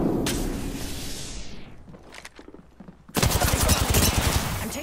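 In the Apex Legends battle royale game, rapid bursts of gunfire crack out in quick succession, a pause of scattered shots, then a loud dense volley near the end, with no talk over it.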